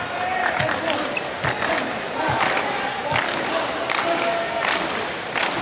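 Volleyball crowd at a Hawaii men's match against Cal Baptist claps in rhythm, led by the Hawaii assistant coach; steady repeated claps through constant crowd noise in a gym, with commentary voices layered over it.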